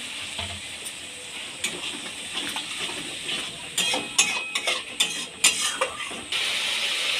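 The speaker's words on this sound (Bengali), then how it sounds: "অল্প পরিমাণে জল দিয়ে ভালো করে কষিয়ে নেব।" Soybean and potato curry with cumin and coriander powder is stir-fried with a little water, a soft sizzling hiss under irregular spatula scrapes and knocks that grow busier and louder toward the end, close and without talk.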